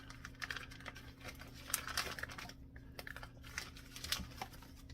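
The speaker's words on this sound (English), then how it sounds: "I'm just gonna take the bacon out of the package." Bacon being pulled out of its plastic package in a kitchen, heard as close, faint crinkling and tapping in irregular bursts, with no talking.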